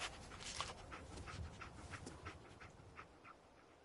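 A dog in the video game Fallout 4 pants in quick, steady breaths for several seconds, close and soft, with small whimpers mixed in and no talking.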